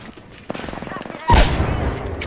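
A frag grenade explodes in Apex Legends after a burst of rapid gunfire, the blast loud and close, then a rumbling tail under faint game noise.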